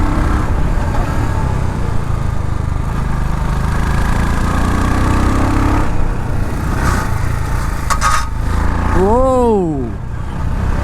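A Royal Enfield Scram 440 motorcycle engine drones steadily at cruising speed on a highway, with wind rush throughout and a couple of brief sharp sounds near the end.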